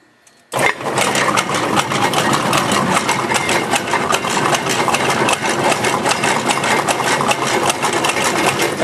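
A RO-TAP Model B testing sieve shaker starts abruptly, then runs loud and close with a dense, rapid mechanical clatter and regular tapping, steady throughout with no talking.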